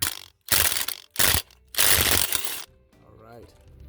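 Ratchet working on the accessory bracket to intake manifold bolts of a Dodge B1500 van, several loud close bursts of rapid clicking between pauses, with someone speaking briefly at the end.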